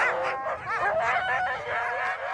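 A team of sled dogs yips, whimpers and barks in a tight, excited cluster of overlapping whiny calls, loud and close, continuing without pause.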